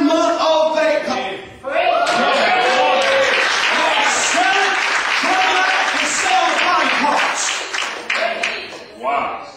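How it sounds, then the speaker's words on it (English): A church congregation claps and cheers together in a loud, sustained burst, with voices shouting and calling out over the clapping throughout. "And we'll stand and clap."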